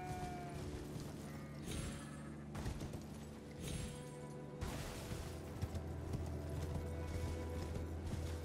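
Galloping horse hooves while riding in Elden Ring, a steady muffled clip-clop over a droning game soundscape with several deep thuds and swells, continuous and moderately loud for the whole stretch.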